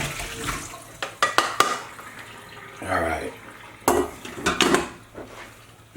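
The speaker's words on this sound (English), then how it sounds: "Now I'll just drain this in the strainer in the sink here." Hot pot roast liquid from an Instant Pot poured into a strainer in a kitchen sink, a splashing pour around the middle with metal pot and utensil clatters before and after.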